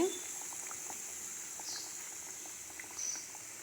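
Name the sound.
semolina biscuits frying in oil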